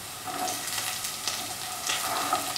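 Carrot and capsicum sizzle in a pan of shrimp fried rice, a soft, steady crackling fry with faint stirring scrapes, close but fairly quiet.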